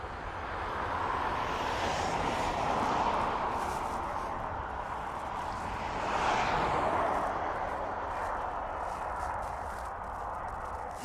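Ryanair airliner landing at Dublin Airport on a calm day, a steady broad jet roar swelling twice as it passes, heard from a distance with no talk.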